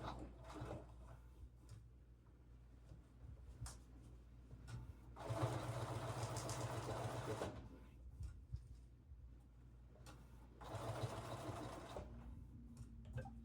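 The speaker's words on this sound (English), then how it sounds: "I tend to just stitch a little bit, then guide it, stitch," Sewing machine stitching fabric in short bursts, two clear runs of steady motor whir a few seconds each with quieter pauses between as the work is guided, close and moderately loud.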